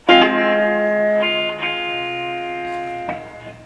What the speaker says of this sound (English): Digital reverb on these boards. Sounds quite nice though.